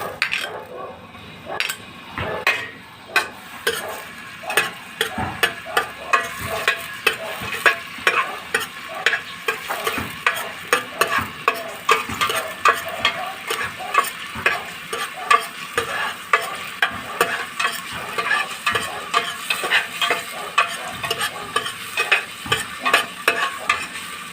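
Onions sautéing in a pan for Bicolano-style bitter gourd with egg: continuous sizzling under repeated scraping and clinking strokes of a utensil against the pan, steady and close, with no talking.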